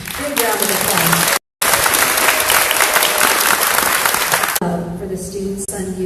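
Applause fills a school district board meeting, loud, dense clapping from the audience that carries on for several seconds, breaks off once briefly, and then fades to lighter clapping under a voice.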